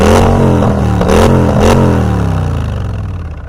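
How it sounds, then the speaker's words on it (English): A motorcycle with a Freedom exhaust revs up loudly in a few sharp bursts, then settles into a deep, rumbling idle close by. "That Freedom exhaust."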